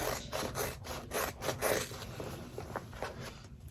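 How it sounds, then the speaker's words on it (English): Scissors snip through a zipper and layers of fabric on an in-the-hoop zipper bag, a close, steady run of rough rasping cuts and scrapes with no talk. "you're cutting through zippers and you're cutting through lots of fabric"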